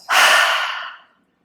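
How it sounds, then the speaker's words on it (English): A single long open-mouthed exhale at the close of a yoga breathing sequence, close and fairly loud, rising quickly and trailing off over about a second, then quiet. "Open the mouth, exhale."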